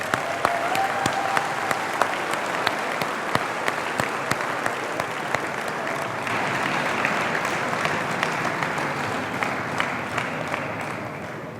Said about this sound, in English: Can we please give a round of applause for our donors and our students?